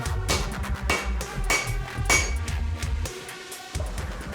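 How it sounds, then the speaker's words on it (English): Heavy hammer blows forge hot metal into a Viking Dane axe, landing in a steady series of dull, ringing strikes at close range, with no talk. "You can feel it moving under the hammer."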